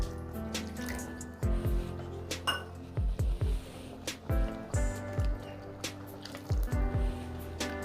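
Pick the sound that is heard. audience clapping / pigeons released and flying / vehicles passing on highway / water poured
water poured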